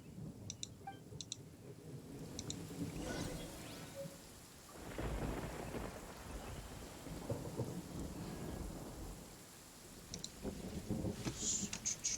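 Rain and thunder in the Genshin Impact video game: a steady wash of rainfall with deep rolling thunder swelling in the middle, plus a few faint clicks, with no voices.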